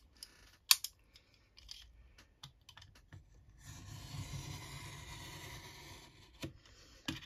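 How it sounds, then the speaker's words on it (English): A sharp blade scores a straight line along a ruler through a book cover, heard as a few soft taps followed by a quiet, sustained scraping drag lasting a few seconds, close and faint. "Let's put it back on the straight so I can cut a straight line down there."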